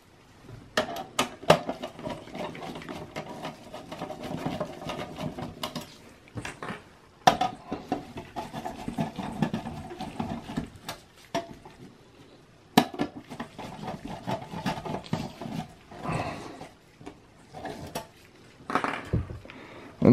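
Screws being backed out of a Dell L180ES 180W power supply, with repeated faint metallic clicks and scrapes from the screwdriver and small taps on the metal casing, close by and spread in short bursts.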